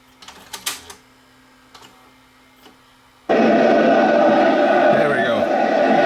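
Samsung VCR winding a long-stuck tape on fast forward: after a few faint clicks and clunks, a sudden loud, steady whirring mechanical hum starts and runs on without a break.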